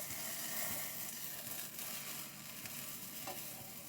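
A bacon and cheese omelette is turned in a hot pan: a soft scrape and flip over steady, gentle sizzling, with a few small knocks as it settles.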